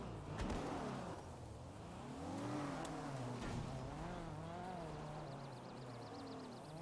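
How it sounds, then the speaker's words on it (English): A car drives and revs in a video game, the engine note rising and falling in smooth sweeps, moderately loud and steady with no talking. "Are we chasing a car on foot?"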